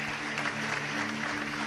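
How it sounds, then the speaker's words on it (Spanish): Congregation claps during a Spanish-language church service, a short burst of steady applause heard over a sustained organ or keyboard chord. "Un aplauso fuerte al Señor."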